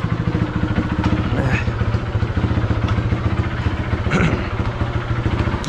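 A Honda CG trail-converted dirt bike engine runs close by with a rapid, chopping exhaust pulse, briefly rising in pitch twice as the throttle is blipped.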